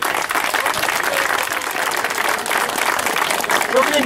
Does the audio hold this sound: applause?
yes